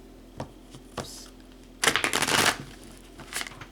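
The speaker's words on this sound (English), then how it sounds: "I do a lot of the shuffling off camera because my hands are dumb, but just shuffle up a little bit more" Tarot cards are shuffled by hand at close range, with a few soft taps and then a dense burst of riffling flicks, and no one speaks.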